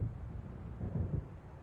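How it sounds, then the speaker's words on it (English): Low, muffled thunder rumbles from an approaching storm in the Alan Wake video game, a distant rolling swell that peaks briefly then fades, with no voices. "It seems there's a storm coming."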